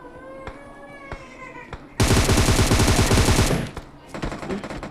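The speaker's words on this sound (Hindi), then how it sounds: "और फिर सामने से हमको फायरिंग आता है।" A loud, rapid burst of automatic gunfire in PUBG mobile gameplay, near and sharp, with scattered lighter shots and a faint voice before and after.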